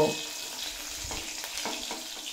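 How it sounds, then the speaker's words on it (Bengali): Cauliflower florets fry in oil over a low to medium flame, giving a steady close sizzle with faint stirring sounds and no talking. "ফুলকপিগুলো লো টু মিডিয়াম ফ্লেমে রেখে বেশ লাল লাল করে ভেজে নিয়েছি।"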